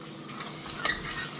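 Mutton masala curry is stirred in a pot after water is added, with a continuous moderate sizzle and a short metallic scrape or clink of the spoon midway.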